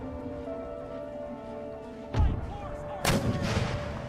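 Artillery fires in the video game Total War: Empire, two booming cannon blasts about a second apart, the second louder, over a quiet background of game ambience.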